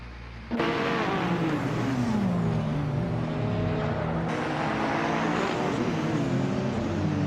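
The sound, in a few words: race cars including 2014 Toyota hybrid racing, from racing video game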